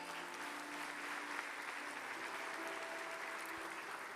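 Steady, dense applause from a church congregation praising the Lord, a broad hiss of many hands clapping, faint and continuous, with no talking over it.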